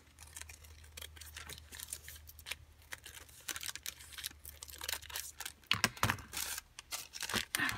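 Pinking shears snip through fabric in a run of quick, close, crisp cuts and rustles, fairly quiet at first and then louder, with sharper snips and crinkling near the end.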